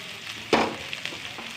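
Ginger drops into hot oil while a soybean curry is being cooked, setting off a sudden loud sizzling burst that quickly settles into a quieter, steady crackle.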